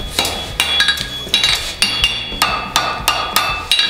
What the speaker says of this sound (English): I'm gonna hit that outside edge until I come to center.